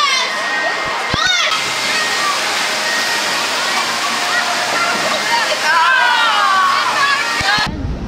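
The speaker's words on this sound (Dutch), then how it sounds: "En die spuit af en toe water." Water spouting at intervals from the Zork figure at Expedition Zork in Toverland's Port Laguna, a steady loud rushing splash lasting throughout, with children's and visitors' voices mixed in.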